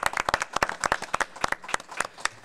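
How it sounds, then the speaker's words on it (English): A round of applause for a basketball coach at a school board meeting, with many crisp, close handclaps in quick, irregular succession from a modest group, steady throughout. "And I just give him a round of applause."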